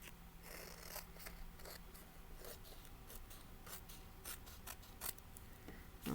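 Scissors cutting through craft material for a Kwanzaa project, giving a quiet, steady stream of crisp snipping and rustling with no voices.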